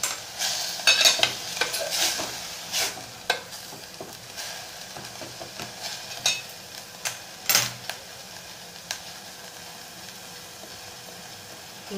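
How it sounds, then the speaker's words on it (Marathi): Green chillies are tossed into a hot pan while a fenugreek-leaf curry is being made, and they fry with a bright sizzle. Irregular scraping stir strokes and clinks cut through it nearby, and no one speaks. "आता आपण मिरची घालून घेणार"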